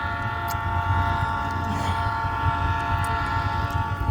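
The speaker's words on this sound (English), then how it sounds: "why the train wanna come?" A train rumbles past with a low, steady engine drone and sustained horn tones held throughout, close and loud for about four seconds with no voices.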